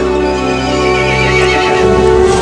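Horse neighing in the video game Resident Evil Village, a loud, close, sustained whinny with tonal harmonics that holds steady for a couple of seconds and then fades slightly, with no talking.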